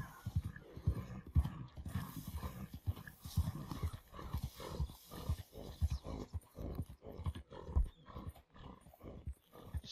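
A tired horse plods slowly through a forest in Red Dead Redemption 2, its hooves clopping in a steady, unhurried rhythm of soft thuds that stay fairly quiet and close.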